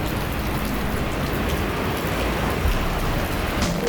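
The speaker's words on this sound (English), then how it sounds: "it's absolutely chucking it down with rain" Heavy rain pours down in Singapore, a steady, dense wash of noise that stays loud and even throughout with no voices.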